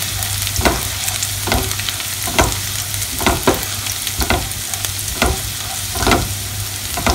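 Chicken for a Kerala-style roast sizzles steadily in a pan while a utensil stirs it in regular scraping strokes, close and fairly loud, with no talking.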